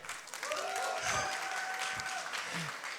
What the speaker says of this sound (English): Big applause for Jay.